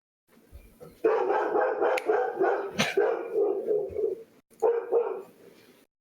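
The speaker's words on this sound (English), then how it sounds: "And your dog's mad." A pet dog barks indoors in a few short bursts, moderately loud and near, with a brief pause before a final bark.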